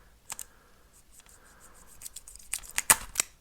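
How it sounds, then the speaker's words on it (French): Scissors cutting open packaging, close sharp snips and plastic rustles scattered at first, then quickening into a cluster of crisp cuts near the end. "Pour l'ouvrir, faut couper ça."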